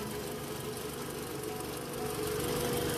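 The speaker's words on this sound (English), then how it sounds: "Engine is running, but it is very quiet." A Toyota Vellfire with a 2400cc engine idles quietly, a low, steady hum with a faint rhythmic tick, unchanging and fairly soft, growing slightly louder near the end, heard alone.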